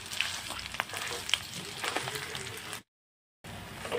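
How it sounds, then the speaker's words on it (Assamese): Potatoes fry in hot oil for bread pakora, giving a dense, steady crackle and sizzle close to the pan. The sound cuts out briefly near the end, then resumes. "এতিয়া গোটেইখিনি তেলৰ লগত আলুখিনি ভালদৰে অলপ টাইম ভাজি লওঁ"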